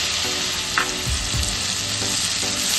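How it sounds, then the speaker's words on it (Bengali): Masala spice paste of Kashmiri red chili powder and salt with a splash of water, frying in a pan for prawn malaikari, gives a steady close sizzle with faint stirring scrapes throughout, no voices. "এই মশলাটাকে এখানে কষিয়ে নেব"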